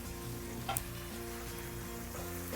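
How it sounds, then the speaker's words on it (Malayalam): Marinated shrimp sizzle in a pan of spiced masala, a steady crackling fry with a sharper spatter about two-thirds of a second in, heard close with no voices. "നമ്മൾ മാരിനേറ്റ് ചെയ്ത് വെച്ചിരിക്കുന്ന ഷ്രിമ്പ് ഇതിലേക്ക് ചേർത്ത് കൊടുക്കാം"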